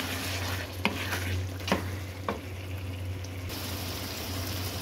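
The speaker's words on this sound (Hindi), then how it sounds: "अब मैं इसको अच्छे से मिक्स करूंगी मसाले में" Boiled white chickpeas stirred into chicken masala in a pan: three distinct spoon scrapes and knocks over a low, steady sizzle, close up, with a constant hum beneath and no voices.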